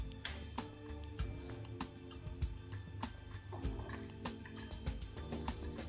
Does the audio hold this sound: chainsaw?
no